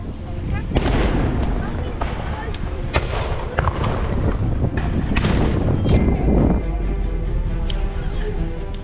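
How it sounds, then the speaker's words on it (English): Booming cannon blasts and sharp gunshots from a staged pirate invasion in a harbour go off repeatedly at irregular intervals, some distant and some close, with crowd noise underneath. "Out in the harbour they had like a pirate invasion with guns and cannons."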